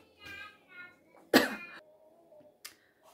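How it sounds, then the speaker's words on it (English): One sharp, loud cough stands out amid quiet, soft speech, followed by a fainter throaty sound. "I have a headache and I'm coughing."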